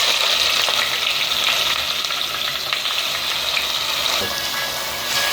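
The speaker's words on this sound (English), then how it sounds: "So fry this onion nicely in the oil for at least 15 minutes" Onions fry in oil for a mutton kurma with a loud, close, steady sizzle and crackle, plus occasional stirring scrapes, and no voices.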